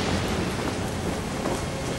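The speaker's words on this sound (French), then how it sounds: "l'équipage de Jack Pigeon traverse une terrible tempête" A cartoon thunderstorm at sea, with dense, loud rain and rumbling thunder forming a steady wall of noise, no voices.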